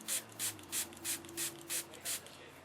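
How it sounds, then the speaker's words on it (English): Eight quick spritzes from a spray bottle onto a napkin, evenly spaced and close by, each a short hissing burst. "you just have to spray it until no more color is coming out"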